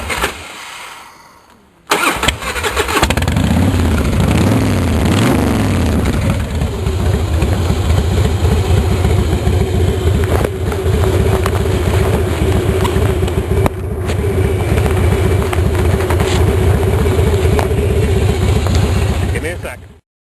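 A Harley-Davidson Fatboy motorcycle cranks for a moment, then its engine catches and settles into a loud, steady, throbbing idle that holds close and unbroken for the rest of the clip.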